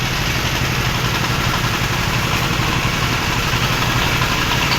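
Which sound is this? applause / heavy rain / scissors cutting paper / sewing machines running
sewing machines running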